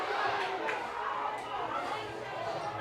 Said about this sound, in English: crowd underneath us are shouting for a bit more